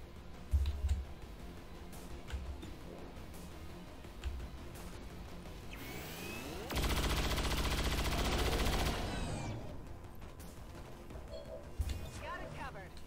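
XCOM 2 turn-based firefight: a loud sustained burst of automatic gunfire in the middle, preceded by mechanical whirring and scattered clicks, with a few softer thumps afterward and quiet talk around it.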